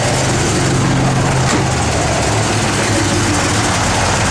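A steady, loud broadband whir from the blower motor of a 1966 Chevrolet Nova, running continuously and close, with a low engine-like hum beneath and no talk.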